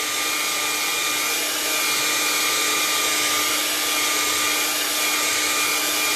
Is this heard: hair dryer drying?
yes